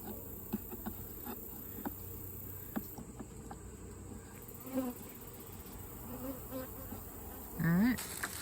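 Honey bees buzz around an open beehive, a steady soft hum close by with individual bees whining past the microphone, one passing loudly near the end.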